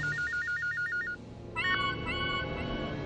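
A telephone rings in a domestic indoor setting, a repeated electronic ringtone pattern of short pulses lasting about a second, followed by another melodic electronic tone sequence, fairly loud and close with no talk over it.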